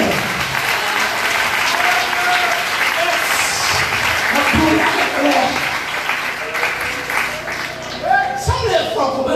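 A church congregation applauds during a prayer service, steady dense clapping mixed with voices and shouts from the crowd, continuing loudly for several seconds.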